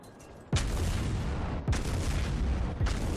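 Battleship main gun salvo in World of Warships, fired from a New Mexico as a ripple of three heavy booms about a second apart, each followed by a loud sustained rumble.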